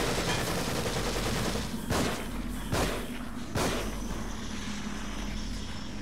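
Automatic rifle fire in The Evil Within video game, a dense sustained barrage with a few louder sharp bursts standing out over a continuous rumble, no talking.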